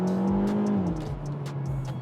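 Revving of a 2020 Hyundai Veloster with its 1.6L turbocharged T-GDI four-cylinder, a loud steady engine note that climbs briefly then settles lower and holds, heard alone at close range.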